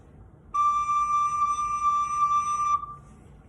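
A school recorder sounds a single sustained high D, steady and clear for roughly two seconds before cutting off, heard close with no talking.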